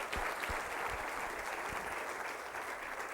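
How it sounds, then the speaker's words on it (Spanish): Congregation applauding at a church service, a sustained dense wash of clapping heard close and steady throughout, with no talk over it. "Dele un aplauso."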